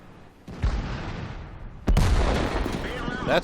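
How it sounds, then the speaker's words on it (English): Artillery shells slam into a tank in the World of Tanks game, two heavy booming impacts about 1.4 seconds apart, the second louder and longer with a rumbling, crackling tail, near and loud. "So the cheap little artillery hit me."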